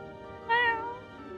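A single short, clear meow from a cat rises over quiet background hum in a game scene.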